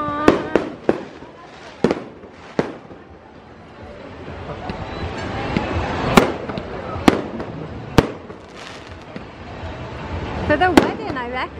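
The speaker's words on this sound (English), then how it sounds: "we got wedding fireworks going on" Wedding fireworks bang repeatedly outdoors, sharp loud cracks at irregular intervals over a steady crowd and surf-like rumble, with some voices in the background.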